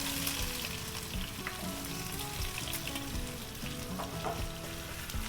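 Onions sizzle and crackle steadily in hot oil with cumin seeds, the base for a malai kofta gravy, close and continuous with no voices.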